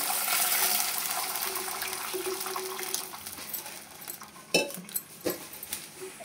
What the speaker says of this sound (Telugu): ముందుగా తీసి పెట్టుకున్న చింతపండు పులుసు దీన్ని పోసేసుకోవాలి.